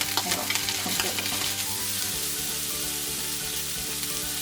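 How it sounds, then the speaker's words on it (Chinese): Cauliflower stems with purple, yellow and orange carrots are stir-fried in a wok for cauliflower rice, a busy sizzle with quick scraping tosses early on that settles into a steady frying hiss. "花菜的梗炒一炒，紫色的胡萝卜，黄色的胡萝卜，还有橙色的。"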